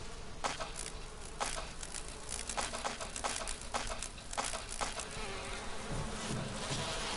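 Bees swarm out of a beehive in the Resident Evil 1 Remaster video game, a dense continuous buzzing drone with fluttering wingbeats filling the scene, loud and close throughout.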